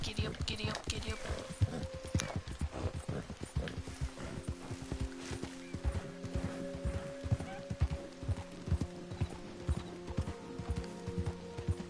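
Horse hooves clip-clopping at a quick, steady pace in Red Dead Redemption 2 Online, riding off-road, with a brief whinny and a man urging the horse on throughout.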